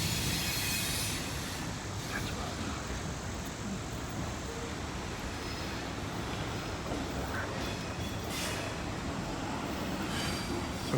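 Freight train rolling along the line at Thurmond, a steady low rumble of wheels and cars held evenly throughout, fairly faint and distant with faint squeals riding on top.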